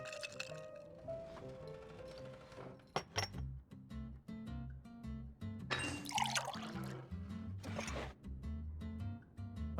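Juice and sparkling water poured and mixed with mint in a video game drink-making event, a series of liquid pours, fizzing splashes and glassy clinks set against a light musical background.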